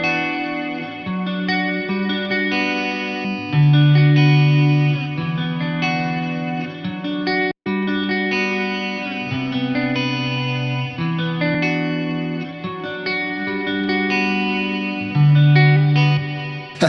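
Electric guitar clean tone through an amp versus a ToneHub profile, playing sustained chords and melodic notes with chorus shimmer and reverb, steady and upfront with a brief cut midway.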